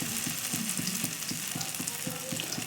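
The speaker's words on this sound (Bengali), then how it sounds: "তো আমি এটা সর্ষের তেলেই ভাজবো।" Drumstick flower fritters fry in a little hot mustard oil with a bright, steady sizzle, overlaid by a fast, regular clicking pulse, and no one speaking.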